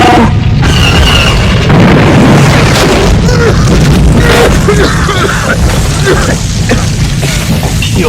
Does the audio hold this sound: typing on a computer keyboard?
no